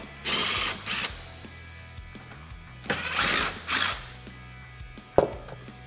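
Screws being driven out of a plastic body panel on a Polaris RZR Pro XP with a power tool, heard as several short whirring ratcheting bursts separated by pauses and a final clack, close and fairly quiet.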